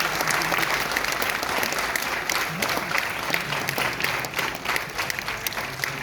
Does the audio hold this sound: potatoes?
no